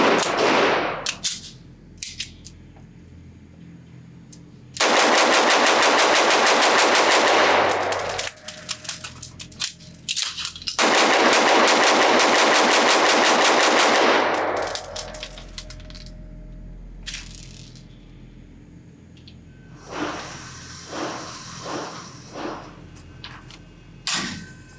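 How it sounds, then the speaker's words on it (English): A Beretta Px4 Storm Compact pistol is fired rapidly at a range: two long bursts of fast, dense shots, close and loud, separated by a pause, followed by scattered clinks and clatter. "we're going to dump 2 magazines through this thing as fast as I possibly can"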